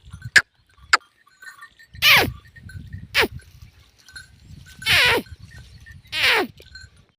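Cows and calves grazing in a farm field give four or five loud, short bleating calls, spaced roughly a second apart, over a quiet outdoor background.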